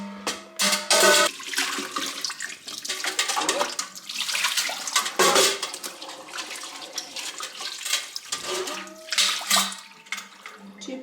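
Liquid pours into a 3-liter plastic milk bottle in strong, gurgling glugs and splashes, the flow surging and pausing several times, loud and close.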